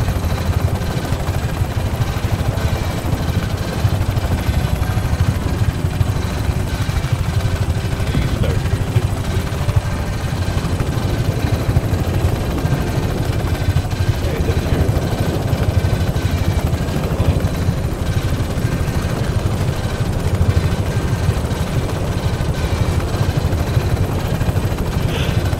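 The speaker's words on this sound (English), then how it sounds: "easier to get there when you have a helicopter that's not trying to be blown apart" A helicopter flies in the video game Just Cause 3, a continuous, rumbling engine-and-rotor drone that holds steady and fairly loud for the whole stretch, with no talking.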